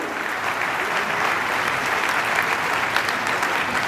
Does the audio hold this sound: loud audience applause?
yes